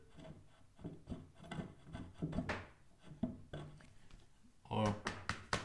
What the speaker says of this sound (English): You can just take the plate and wiggle it a little bit.